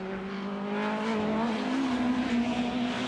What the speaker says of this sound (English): going past one of the BMWs going down into Woodcote Corner